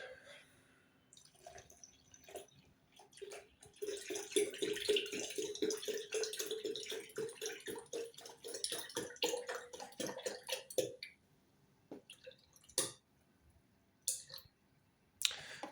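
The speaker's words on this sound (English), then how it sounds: "to finish that off, I'm going to add some pineapple juice" Pineapple juice pours into a container, about 400 millilitres, with a thin trickling and dripping flow, faint at first then a steadier bubbling stream, ending with a few scattered drips and soft clicks.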